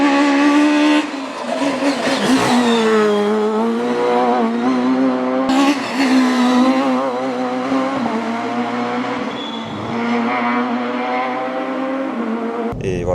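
A Peugeot 306 Maxi rally car driving hard, its engine loud and close with rising and falling revs through gear changes, brief tire squeal and a sharp cutoff at the end, no talk.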